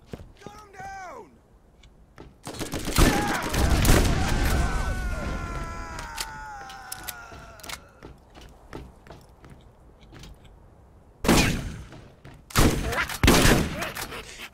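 Shotgun blasts in the video game Borderlands ring out in loud, booming bursts amid a sustained firefight, with ringing mechanical tones and a voice talking over parts of it.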